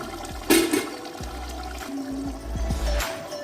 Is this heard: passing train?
no